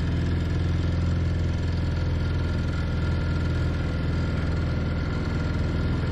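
A boat motor hums steadily as the boat rides along the water near the Aalsmeer water tower, a close, even drone with no speech.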